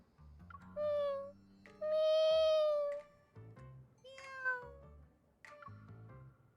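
Cats meowing in the game Love and Deepspace: several distinct meows, some short and some long and drawn out, close and clear over soft background music.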